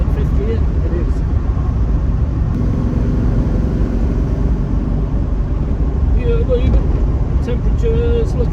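Inside a Jensen Healey V8 cruising in fifth gear, the engine's steady low rumble blends with road and wind noise under occasional talk.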